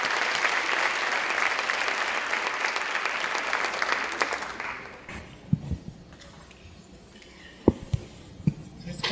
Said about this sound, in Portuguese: O público todo dispara em palmas após a canção